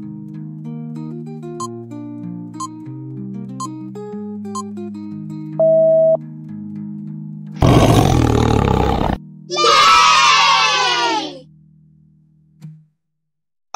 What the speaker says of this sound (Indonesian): Bagaimana bunyi suara harimau?